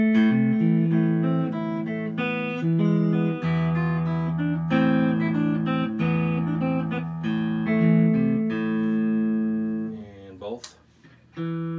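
Electric guitar switched to its bridge pickup, strummed chords and picked notes ringing out bright and sustained for several seconds before fading into scratchy string noise near the end.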